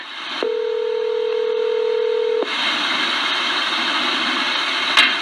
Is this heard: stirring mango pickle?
no